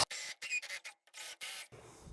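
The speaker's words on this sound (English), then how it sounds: "you want to sand this up a little bit. This little sanding tool is really great for this" A small sanding tool scrubs the cut end of a copper pipe during a plumbing repair, making short, raspy back-and-forth strokes in quick bursts, close up, with brief pauses between them.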